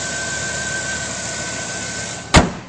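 A 2008 Chevrolet Silverado 1500 LT1 Z71 4WD E85 crew cab truck idles with a steady, smooth low hum and a faint whine, close by, ending with a sharp sudden clunk.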